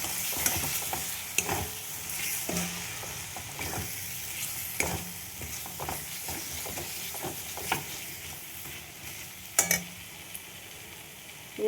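Spices and Kashmiri red chili powder sauté in hot oil in a pan while cooking rohu fish curry, a steady close sizzle broken by repeated scraping stirs and a few sharp clicks of the spoon against the pan.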